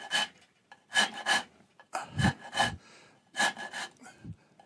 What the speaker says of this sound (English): All I'm doing is just rasping wood away.